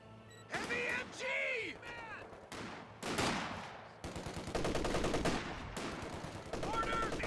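Heavy machine gun fire in the Company of Heroes 2 strategy game, rapid rattling bursts that grow denser and louder, mixed with battle sounds and voices.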